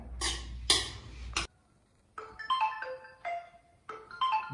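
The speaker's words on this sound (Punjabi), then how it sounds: "Gopi the phone." A mobile phone ringtone rings in a home, with bright melodic tones in repeated phrases separated by short gaps, fairly quiet, after a few louder knocking sounds at the start.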